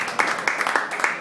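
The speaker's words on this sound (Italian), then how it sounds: "volevo fare un applauso anche ai gruppi che ho suonato prima" Scattered hand claps from a concert audience at a live rock show, several sharp claps in quick irregular succession, fairly close.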